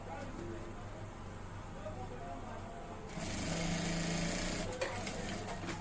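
A sewing machine runs a half-inch seam joining the yoke layers of an Etibo shirt, a steady close mechanical whir that grows louder and higher-pitched midway through, with a faint tone in the background.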